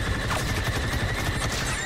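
Rapid video-game gunfire rattles in a dense, continuous burst as enemies are shot down, loud and near with a sustained metallic ring beneath it.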